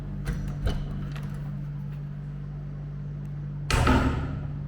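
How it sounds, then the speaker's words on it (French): A bathroom door in holiday accommodation closes with a loud thump and rattle near the end, after a few scattered knocks over a steady low hum. "On ferme la porte."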